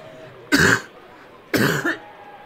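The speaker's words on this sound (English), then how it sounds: "Coughing." A person coughs twice, about a second apart, each a short harsh burst standing alone against a quiet background.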